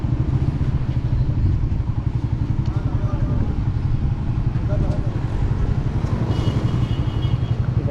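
A Honda CG 125 motorcycle idling as it is parked beside a mosque in Thatta, its engine thumping in a steady rapid rhythm close by, with someone talking over it.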